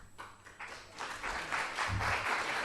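Audience applause at a debate between Mufti Shamail Nadwi and Javed Akhtar: clapping that starts scattered, then swells into a loud, dense ovation that holds steady to the end.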